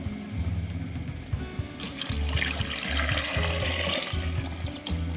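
Water pours steadily into a cooking pot for a mutton leg dish, a continuous close trickling splash that swells midway, with a faint rhythmic low hum underneath.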